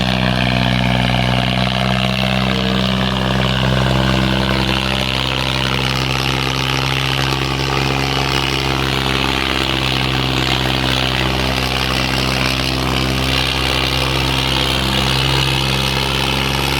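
A new Highland Fired 480 tractor pulls a disc harrow through a field, its engine a loud, steady drone with strong low harmonics that holds nearly unchanged throughout.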